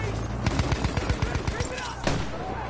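Rapid bursts of automatic gunfire from a Battlefield 1 conquest match, a steady rattling string of shots with a heavier blast near the end, loud and close.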